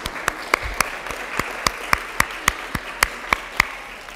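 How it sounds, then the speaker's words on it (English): Sparse, distinct hand claps from a small summit audience, about a dozen sharp separate claps spread evenly over a few seconds, fairly close and with no voices. "So if we could give everybody a big round of applause."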